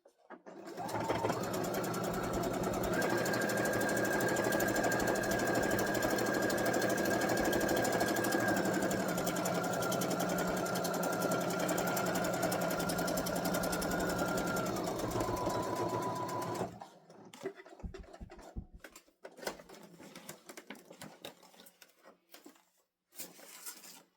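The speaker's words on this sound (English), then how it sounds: "So I need to just stitch right down along this last part." A sewing machine stitches fabric for a Christmas sewing project, running loud and steady at close range for about fifteen seconds before stopping, followed by faint handling noises.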